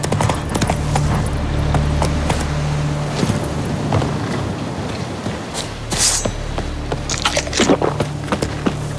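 Hooves of Roach, a horse in The Witcher 3, clip-clop at a steady trot throughout, close and fairly loud, with a low ambient rumble beneath.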